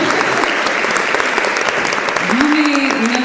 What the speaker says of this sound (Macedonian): Љуми Бекири, еден голем аплауз за единствената мачка